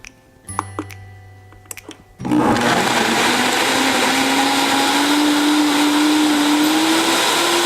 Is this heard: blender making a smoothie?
yes